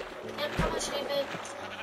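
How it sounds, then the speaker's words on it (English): A sheep in the Minecraft video game gives a short bleat, moderately loud, with a person talking over and around it. "I found a sheep."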